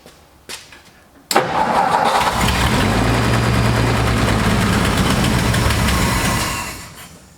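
An old truck engine cranks briefly after a couple of clicks, then catches and roars into a loud, steady rough idle close by before fading slightly at the end.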